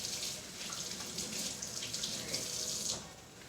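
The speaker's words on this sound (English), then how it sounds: "Make sure you wash your hands good." Water runs from a kitchen tap while hands are washed before cooking salmon and stuffed peppers, a steady, close splashing stream heard alone throughout.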